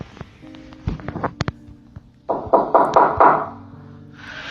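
Sharp knocks strike in irregular clusters, first several separate raps, then a louder run of heavy thuds, close and distinct, with a low hum in the background and no talking.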